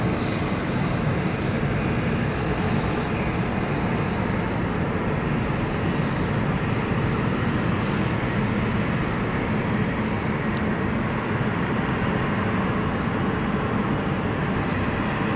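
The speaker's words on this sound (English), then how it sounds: "we've got our second A220 as Swiss is on the final part" A Swiss Airbus A220 airliner on final approach at London City Airport makes a loud, steady broadband engine roar that holds unchanged throughout.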